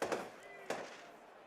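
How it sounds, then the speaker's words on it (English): Fireworks pop twice in the end zone at a high school varsity football game, two sharp bursts with crackling tails, fairly distant and moderately loud. "fireworks, here we go, going off in the end zone to our left"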